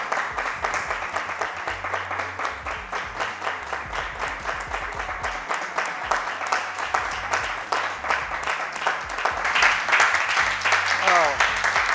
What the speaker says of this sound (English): A round of applause for Kingsley James.